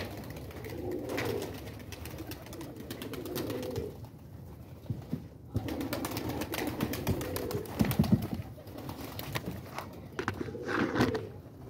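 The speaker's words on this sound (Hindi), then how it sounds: "ऊपर कबूतर बैठाते हैं और इसको फेंकते हैं" Pigeons cooing in repeated soft throaty bursts, fairly close, with pauses between calls and some light shuffling or movement noises, no speech.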